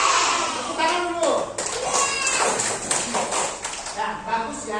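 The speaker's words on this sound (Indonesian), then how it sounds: "Tepuk tangan dulu." A classroom of primary school children claps together after group presentations, brisk overlapping clapping mixed with kids' excited voices and chatter throughout.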